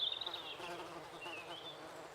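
A wood wasp buzzes close by in a faint, continuous wing drone that wavers slightly in pitch over about two seconds, alone without talking.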